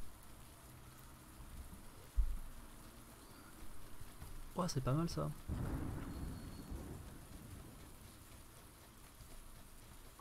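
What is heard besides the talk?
rain falling in the video game PUBG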